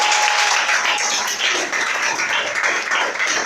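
Church congregation applauding and cheering together, a dense, loud, continuous wash of clapping and voices filling the room.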